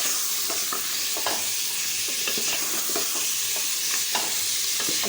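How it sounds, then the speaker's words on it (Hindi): Mutton fries with ginger in a pot for yakhni, a constant close hiss of sizzling oil punctuated by regular scraping stir strokes, with no voices. "इसमें डाल देंगे मटन। मटन को अच्छी तरह से भूनना।"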